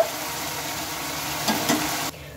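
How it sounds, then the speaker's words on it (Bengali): Spice paste fried and stirred in a pan for a rohu fish kalia with ground coriander: a steady close sizzle with a couple of brief scraping stir clicks, then an abrupt cut near the end. "তো মশলাটা এখন আমি কিছুক্ষণ কষিয়ে নেব।"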